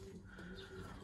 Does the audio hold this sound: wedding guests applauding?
no